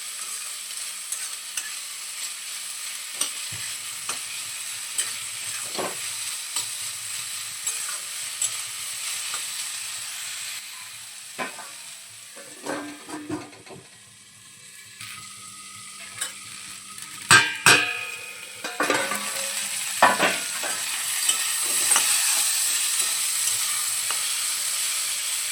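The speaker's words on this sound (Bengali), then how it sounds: "নুনটা ভালো করে সবজির সঙ্গে নেড়ে চেড়ে নেব।" Salted potato and carrot pieces are stirred in a frying pan for sabu pulao, with a soft steady sizzle broken by scattered scraping strokes of the spoon against the pan, quiet and close.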